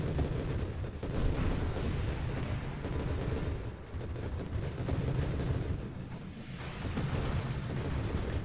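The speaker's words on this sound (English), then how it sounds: "Listen to the sound of those fireworks." Grenade explosions in the space shooter Nova Drift: a dense, continuous barrage of booming blasts and crackling bursts, loud and overlapping, with no pauses and no speech.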